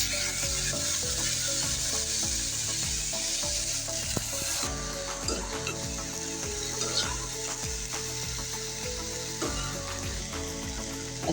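Chopped taro corms (kochur mukhi) fry in hot oil with turmeric, giving a loud, steady sizzle with occasional stirring scrapes throughout.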